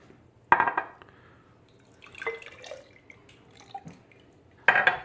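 Juice poured into a glass mason jar for homemade wine: short splashing bursts of liquid hitting glass, with drips and light clinks between pours, close and fairly quiet, no voices.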